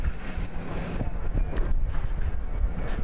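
Strong wind buffets the microphone at an outdoor javelin throw stadium, a steady low rumbling roar with gusty swells throughout, loud and close with no clear voices.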